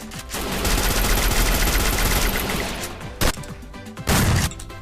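Rapid automatic gunfire in a shooting video game, a dense continuous burst of shots lasting a few seconds, then a couple of short separate bursts, loud and close with no talking.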